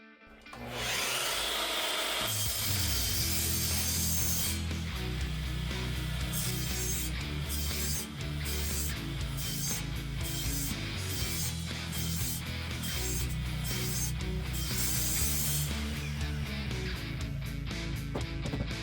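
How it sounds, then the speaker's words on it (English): A miter saw cuts through a series of wooden boards with no dust collection attached, a run of loud, close whining cuts repeated in quick succession after a brief start-up, with no talking. "So there's 10 boards cut without any dust collection."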